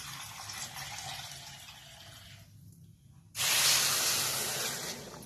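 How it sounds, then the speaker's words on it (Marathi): A bowl of water is poured onto two bowls of sugar in a pan for Mysore pak. A soft background hiss breaks into a loud, close rushing splash partway through that continues to the end. "याच्यामध्ये 1 वाटी पाणी घालायचं."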